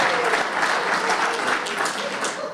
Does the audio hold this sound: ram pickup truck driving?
no